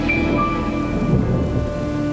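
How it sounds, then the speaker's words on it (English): Thunder rumbling loud and close during a heavy rainstorm, a deep sustained roll over steady rain hiss, with faint tonal sounds in the background. "A burst of thunder shook the house and the party fell silent."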